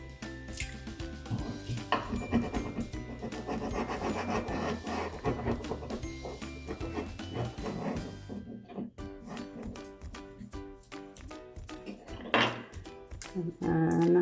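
Transfer tape is scraped down firmly onto a 4th of July decoration, producing a steady rasping rub that runs close and fairly loud for several seconds, with tonal background sound and then a few scattered knocks.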